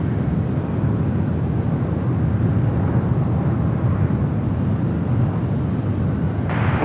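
An Emirates Airbus A380 at San Francisco airport, a continuous deep rumbling jet engine drone that stays at an even loudness throughout, with no voices over it.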